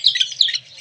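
Small birds chirp in quick, bright bursts close by while pecking at scattered pieces of flatbread thrown out for them in the morning.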